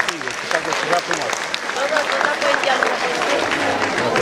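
Crowd applause at a Romanian high school freshman ball, a steady wash of clapping from a large room with voices and cheers mixed through it, holding level for several seconds.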